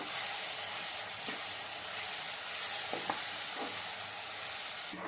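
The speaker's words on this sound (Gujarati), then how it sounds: "બેસનને આપણે મરચાંની સાથે સારોથી મિક્સ કરી દીધો છે" Besan is stirred with green chillies in a hot pan for marcha no sambharo: a soft, continuous sizzle and hiss, broken by a few brief scraping strokes of the spoon.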